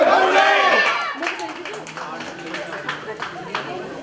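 A party crowd at a retirement celebration claps and cheers, starting with a loud burst of voices and applause that settles into steady scattered clapping with sharp individual claps and crowd noise.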